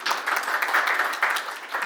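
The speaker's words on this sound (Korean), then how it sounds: "다시 한번 큰 박수 좀 부탁드리겠습니다" An audience at an information security lecture gives a short, dense burst of clapping that fills the room evenly for a couple of seconds.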